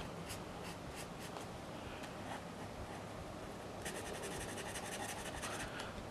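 A Giotto Turbo Glitter pen draws on paper, making a faint, close scratchy rubbing with short repeated strokes that quicken into brisk back-and-forth scribbling toward the end.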